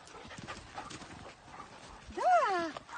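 A dog pants and moves about nearby while people talk throughout, and a higher whining or whimpering vocal rises near the end.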